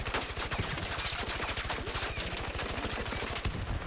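Rapid sustained automatic gunfire from ARC Raiders, shooting up an ARC machine's core, a dense steady stream of shots running close and loud for nearly four seconds with no talk.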